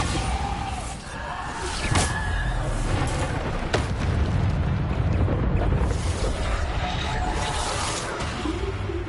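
Bombarda spell explosions in the video game Hogwarts Legacy: loud, continuous blasts and roaring bursts pile up densely with whooshes throughout, leaving no quiet gaps.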